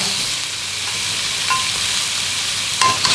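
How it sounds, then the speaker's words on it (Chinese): Steady hiss of fish belly frying in hot oil in a wok, a continuous sizzle with a couple of brief sharper crackles, close and fairly loud. "锅热倒油，鱼腩给它下锅煎一下"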